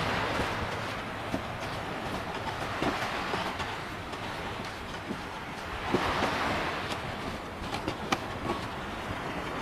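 Sea waves wash steadily onto the shore at a beach in Barangay Bakal, Paracale, Camarines Norte. The surf makes a continuous broad rush with soft swells and faint wind, and no voices are heard.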